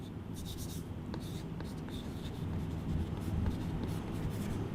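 A pen or marker scratches out short, quick strokes on a board during a Hindi-language biology lecture, the faint rhythmic writing sounds close against steady room hum, with no talking.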